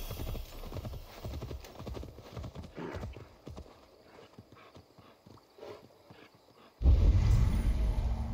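Horses trot in the video game Assassin's Creed Valhalla, with rhythmic clip-clop hoofbeats fading to softer steps, then a sudden loud rumbling burst near the end.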